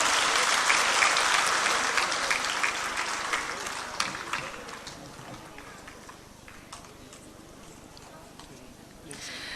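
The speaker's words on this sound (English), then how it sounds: "Can please clap for this little one now." Steady applause from an audience at a state-level children's competition, loud at first and gradually thinning out, with a brief swell again near the end.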